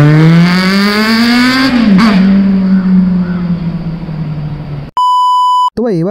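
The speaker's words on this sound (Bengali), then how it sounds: "আরেকটা কারণ হচ্ছে বাইকের এক্সজস্ট সাউন্ডটা" A motorcycle's exhaust revs up in a steady rising whine and then eases off. The rev is followed by a short pair of sharp electronic beeps near the end.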